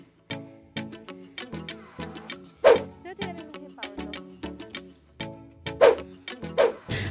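A dog barks repeatedly near a muddy trail by a tunnel on a bike ride to the Angono–Binangonan petroglyphs site, sharp yelping barks in an irregular series, some louder and closer, with brief gaps between.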